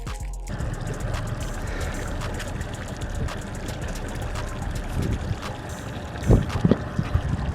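Boat motor droning steadily on open water while trolling toward a marina, with wind buffeting the microphone and a few thumps and splashes near the end.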